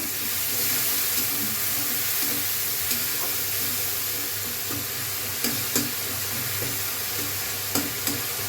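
Water is poured into a pan of frying coriander and cumin powder, a steady hissing sizzle with a faint watery rush, with a few light clicks near the end.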